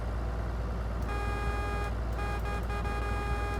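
Horn of a John Deere tractor in the Farming Simulator game, a steady multi-tone blast starting about a second in and holding over a constant engine hum, with brief breaks near the end.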